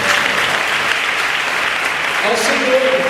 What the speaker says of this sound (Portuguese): E dê uma salva de palmas ao Senhor.